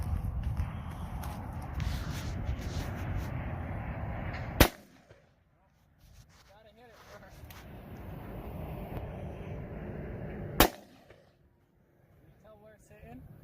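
A 45-70 rifle firing a heavy 550-grain bullet fires twice outdoors. The sharp, loud cracks are about six seconds apart, each cutting off abruptly. Faint talk and background noise come before the first shot and between the two.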